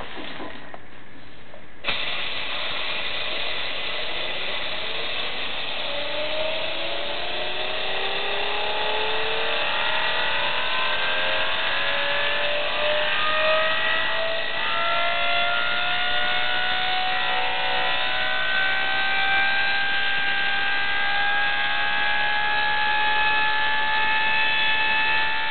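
A homemade Tesla turbine built from old hard drive platters with drilled holes spins up. A rising whine climbs steadily in pitch over many seconds under a constant hiss of driving air, close and fairly loud.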